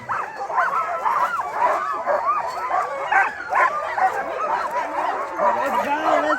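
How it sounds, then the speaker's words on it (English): A twelve-dog sled team in Alaska, excited and pumped before a run, gives a constant dense mix of yips, barks and whining whimpers from many dogs at once, loud and overlapping throughout. "We got a 12-dog team,"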